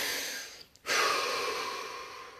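A single deep breath drawn in and released close to the mic during a seated relaxation session: a brief pause, then a long, airy exhale that fades out slowly, with no talk.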